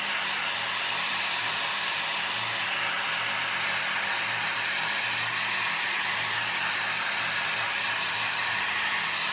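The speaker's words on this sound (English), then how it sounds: "in my case, we can use a hair dryer" A hair dryer blows steadily at close range, drying filler in a concrete wall hole, a constant whooshing roar with no pauses and no talking.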